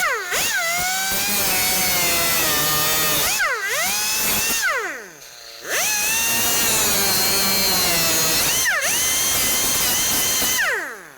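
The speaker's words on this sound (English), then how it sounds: "I like to use my cutoff tool." A cutoff tool spins up and slices through metal ends during a window regulator job on a GMC Sierra 1500, with several loud whining bursts that dip in pitch as the disc bites, separated by brief pauses.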